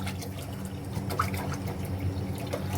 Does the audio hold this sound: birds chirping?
no